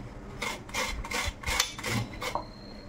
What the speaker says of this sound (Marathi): ह्या पद्धतीने आपण हा फ्लावर सगळा किसून घ्यायचा आहे